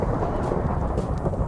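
Steady heavy rain with a deep rumble of thunder underneath in a Minecraft Hypixel UHC game, continuous and fairly loud throughout.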